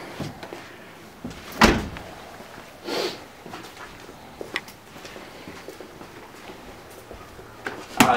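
The door and door handle of a 1987 Volkswagen Scirocco make a few separate mechanical clunks and clicks, a sharp one followed by softer thuds, set against quiet outdoor background noise.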